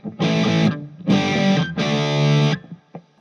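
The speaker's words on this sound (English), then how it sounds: "different distortions, 80s distortion" Electric guitar played through a Divitone Jam 20 portable smart amp on an 80s distortion setting: three loud, gritty sustained chords in sequence, each cut off cleanly, with a faint pick noise at the end.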